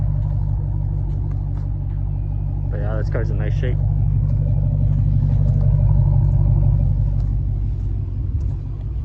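A 2014 Dodge Challenger SRT8 in mint condition idles with a steady, deep low rumble throughout, while someone talks briefly over it nearby.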